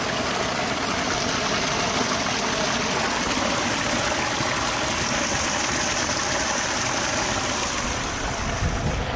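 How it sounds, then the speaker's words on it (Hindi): A glacier meltwater stream flowing in the mountains near Chitkul on the route to Spiti Valley, a loud, continuous broadband rush of water that stays steady and close throughout, with no talk. "ये ग्लेशियर से जो पिघल के पानी आता है"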